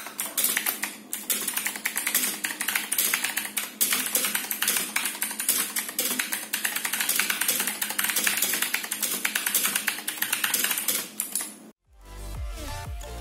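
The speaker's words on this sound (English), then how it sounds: "here's a sound test as I type on the keyboard" Fast, continuous typing on a Gigaware K28 mechanical keyboard with blue switches, a dense run of sharp, close clicks that stops abruptly near the end.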